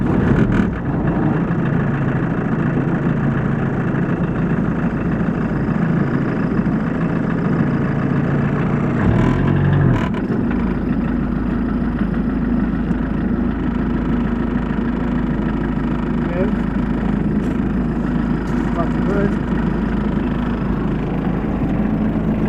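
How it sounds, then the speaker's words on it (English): A 1981 Volkswagen Rabbit Caddy pickup with a 1.6 liter diesel engine idles steadily and close by, a low continuous rumble with a brief surge near the start where it catches and runs. "Okay, let me start it. Turn on the key and wait for the glow plugs to warm up."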